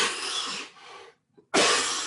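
A single harsh cough burst, a brief quiet pause, then another loud cough, close up and alone.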